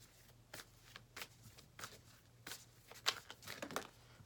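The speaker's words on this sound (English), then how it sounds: "Oh, cards flying out here." Tarot cards being shuffled by hand, with a run of soft, papery riffles and slaps in an uneven rhythm and a few sharper flicks as cards fly out, all faint and close with no talking.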